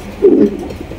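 Pigeons cooing at a pigeon seller's stall, a single soft, low, throaty coo lasting about a quarter second, close and clear with no talking.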